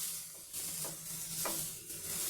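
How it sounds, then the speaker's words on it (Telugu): Grated carrots frying in a pan for carrot halwa, a steady soft sizzle with a few scraping stirs of a spoon breaking through at intervals, close and fairly quiet. "ఈ విధంగా కొంచెం పచ్చివాసన పోయేదాకా వేయించుకోవాలి"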